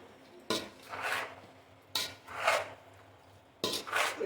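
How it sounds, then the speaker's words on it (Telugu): Mango pickle being stirred with oil in a container, avakaya style: three separate scraping, rubbing bursts of a utensil against the vessel, fairly close, with quiet gaps between and no talking. "మంచిగా పక్కకు పట్టేంత వరకు మిక్స్ చేసుకొని డబ్బా ఎత్తుకోవాలి"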